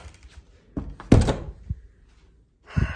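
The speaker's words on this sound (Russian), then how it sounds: "Сюда дверь закрою, чтобы они не мешали работать." An interior door in a house is pushed shut with a single solid thunk, fairly close and loud, followed by a short quiet pause and a softer knock.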